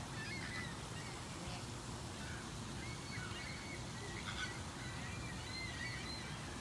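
Chilean flamingos at a zoo lagoon give a few faint, goose-like honking calls. The calls are scattered and sit over a steady wash of outdoor background noise.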